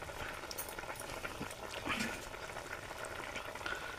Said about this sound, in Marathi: लगेच ढवळून घेऊ आपण